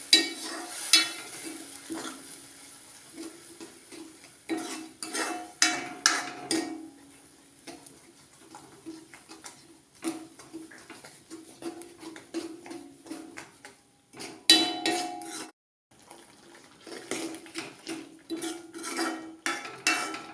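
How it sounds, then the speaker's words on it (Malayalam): A spoon stirs a ginger-garlic mix into tomato chutney in a cooking pan. Soft scraping and clinking come in intermittent bursts with short pauses, close and fairly quiet, with no voices. "നന്നായിട്ട് ഇളക്കി യോജിപ്പിക്കുക."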